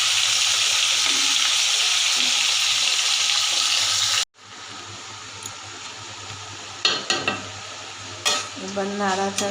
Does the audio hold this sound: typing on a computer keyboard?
no